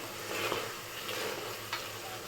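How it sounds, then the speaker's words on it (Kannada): Fenugreek leaves being stirred in a pan with oil and masala spices, a soft continuous sizzle with light scraping strokes at a moderate, close level. "ಚೆನ್ನಾಗಿ ನೀಟಾಗಿ ಆ ಎಣ್ಣೆ ಜೊತೆ ಮಸಾಲ ಐಟಮ್ಸ್ ಜೊತೆ ಚೆನ್ನಾಗಿ ಮಿಕ್ಸ್ ಮಾಡಿ ಆ ಮೆಂತ್ಯ ಸೊಪ್ಪನ್ನ"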